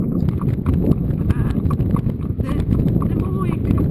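A ridden horse walks along, its hooves clip-clopping in a steady, close rhythm while a rider talks over the footsteps.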